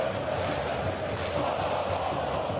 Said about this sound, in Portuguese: Entre no clima da torcida no Pacaembu.